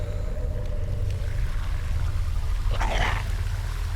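Wild jungle dogs in a Telugu film scene let out a brief bark-like cry over a constant low rumbling background.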